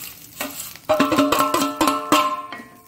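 Curry leaves, coriander seeds, fenugreek and cumin roast in a pan for a Mangalorean sambar, giving a close, steady sizzle with bursts of crackling and stirring scrapes that grow louder after the first second.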